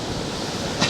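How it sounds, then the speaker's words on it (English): Strong waves breaking on the Lake Erie shore at a Cleveland lakefront park, a steady loud wash of surf with a brief surge near the end. "with the wave so strong"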